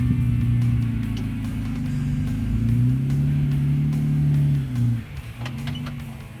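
Jeep Wrangler JKU engine straining while crawling up the rocky Hell's Gate off-road obstacle, a loud, close, low drone whose pitch climbs and falls as throttle changes, easing off near the end amid scattered knocks and clunks.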